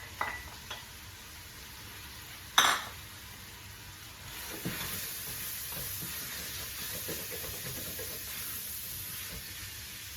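A medium onion, chopped, hits a hot pan and sizzles with a steady soft hiss, broken by a sharp clatter of utensil on pan and light stirring scrapes.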